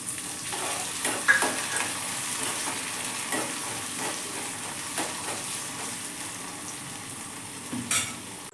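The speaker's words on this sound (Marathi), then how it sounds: "तेलामध्ये टोमॅटो ॲड केला आणि टोमॅटोला पण छान असं परतवून घेतलं" Chopped tomato sizzling in hot oil for a restaurant-style garlic fenugreek curry, with a steady crackle of frying and repeated scraping clatters of a spoon stirring the pan, close and without speech.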